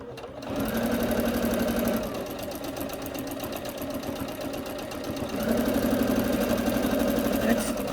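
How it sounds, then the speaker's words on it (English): Sewing machine stitching buttonholes with a fully automatic foot, a steady fast mechanical hum and rhythmic needle clatter that runs continuously and grows slightly louder near the end. "Seeing this machine sewing."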